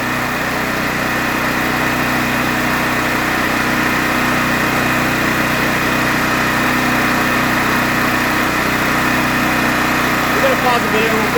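A Pulsar 12,000-watt dual fuel generator engine running steadily just after starting, a loud continuous drone that stays even for the whole stretch with no talk over it.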